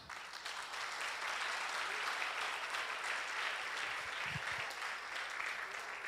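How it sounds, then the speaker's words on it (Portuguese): Steady, sustained clapping from a church congregation during a Sunday evening G12 pre-convention service in Fortaleza, heard from a distance as an even roar of many hands, with a brief low thump near the end. "Aplauda mais."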